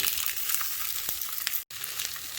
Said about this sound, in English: Okay, so to my pan, I have some olive oil, and I'm just gonna drop these in.